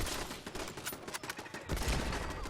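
Kar98K bolt-action rifle fire in the video game Fallout 4, heard as a busy stretch of loud game gunfire and impacts with sharp bursts layered over a dense, noisy combat backdrop.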